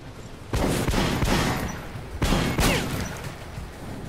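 Gunfire in Metro 2033 Redux: two loud bursts of rapid shots, the first lasting over a second and the second near the middle, with quieter rattling fire between and after them.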